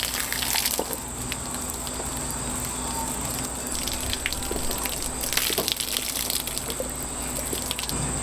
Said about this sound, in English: Alright, I'm gonna put water in there.